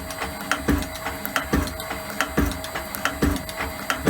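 An Elliot 14S shaping machine takes a milling-depth cut on metal, each stroke landing as a regular knocking clack about twice a second over a steady mechanical hum, close and moderately loud with no speech.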